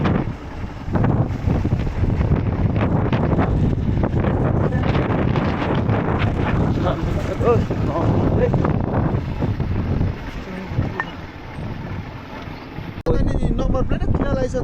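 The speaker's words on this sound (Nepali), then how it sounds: "हावा चाहिँ कस्तो आइदियो" Strong wind buffets the microphone on a rocky mountain road in Upper Mustang, a loud roaring rush with gusty surges, briefly dropping then returning, while people talk faintly.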